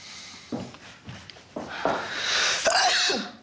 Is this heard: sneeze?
yes